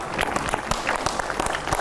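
A group at a yoga session bursts into brief, lively clapping, a steady patter of overlapping claps from a room of people with faint voices underneath.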